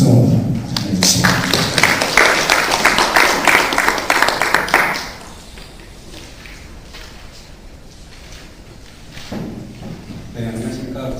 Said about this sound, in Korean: 박수도 해주시고